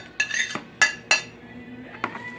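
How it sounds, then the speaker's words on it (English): Sofrito ingredients, including cilantro, are mixed in a bowl: a few sharp clinks and scrapes of a utensil against the bowl, close and clear, spaced irregularly in a quiet kitchen. "Now you mix it in the bowl."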